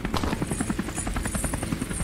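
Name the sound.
helicopter in a video game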